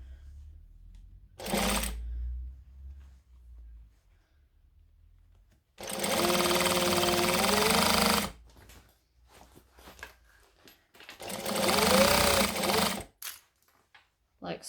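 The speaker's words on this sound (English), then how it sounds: "I'm just going to sew the base on" A home sewing machine stitches the base onto a fabric bag in three separate runs: a short burst, then two longer steady whirring stretches, with quiet handling of fabric between them.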